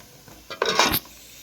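Onion and vermicelli frying in a pot are stirred once, a brief, loud metallic scrape and clatter of utensil against pot lasting about half a second over a quiet background.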